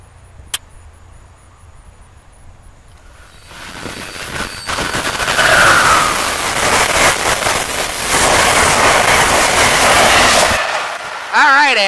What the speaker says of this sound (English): Alright, another Northeast Regional, but this time with ACS 64 number 602.